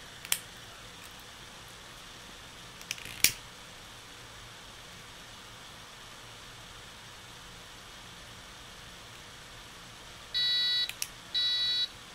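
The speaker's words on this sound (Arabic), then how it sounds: "وارتفعت درجة الحرارة وأصدر صوت انذار للحريق" An Arduino fire alarm buzzer sounds after its temperature sensor is heated with a lighter. Two short, shrill electronic beeps stand out clearly above a quiet hiss near the end, after a few faint clicks earlier.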